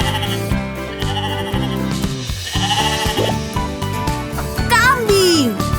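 Goat bleating over bright children's cartoon music on a farm-animal learning segment, a few wavering bleats heard under a bouncy tune with jingles.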